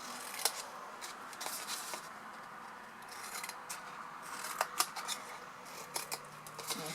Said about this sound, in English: So just going around, cut those little wedges out.